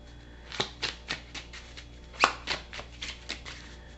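Tarot cards being handled and shuffled close by, a quick series of crisp riffling flicks in an uneven rhythm, with one louder snap partway through and no talking.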